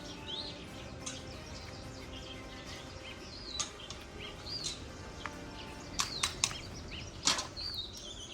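Birds chirp and call from several directions, short tweets and rising whistles scattered over a quiet outdoor background, with a few sharper bursts near the end.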